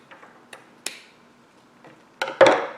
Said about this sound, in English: get some more of your ribbon, pull it out and just kind of cut some off.